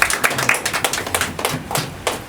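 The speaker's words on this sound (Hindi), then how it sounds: "एक बार सर के लिए जोरदार तालियां" A comedy show audience claps for a guest in an uneven run of separate, fairly close hand claps, loose and unsynchronized rather than a full roar.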